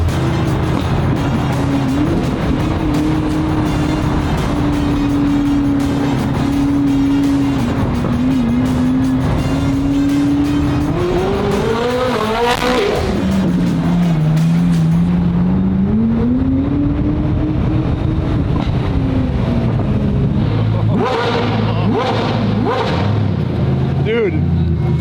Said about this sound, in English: Driving through London with two Koenigsegg's.